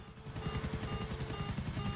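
Steady, loud helicopter rotor thump with a high whine from a helicopter in the video game GTA IV, continuous and close throughout with no talk.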